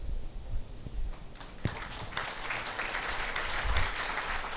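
Audience applause at a conference on smart, safe and sustainable ports, a short burst of clapping from a hall crowd, moderately loud and continuous.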